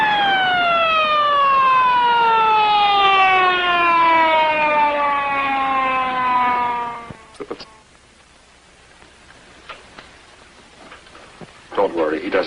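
An ambulance siren from 1952 wails loudly in one long tone that sinks steadily in pitch, then cuts off abruptly, followed by a few faint knocks and rustles.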